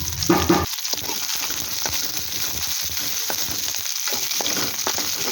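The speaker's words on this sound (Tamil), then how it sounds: "கொஞ்சம் வெங்காயம் போட்டுக்கலாம் வெங்காயம் நல்லா வதங்க விடணும்" Onions sizzle in hot oil in a pan for prawn gravy, a dense steady frying hiss with a louder crackle at the start, close and continuous with occasional stirring scrapes.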